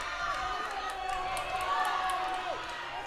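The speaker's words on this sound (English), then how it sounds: "All the audience is cheering" An audience cheering at the New Zealand Women's Powerlifting Championships, a dense crowd roar with shouts and whoops rising and falling, mixed with voices calling out nearby.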